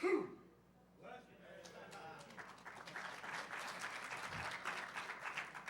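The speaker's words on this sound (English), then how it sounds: "the most applause I've ever gotten. It was from me freaking sneezing" Audience at a hacker conference talk breaks into applause after a sneeze; the clapping swells from quiet to a steady, moderate roar, with a voice and a short burst of sound near the start.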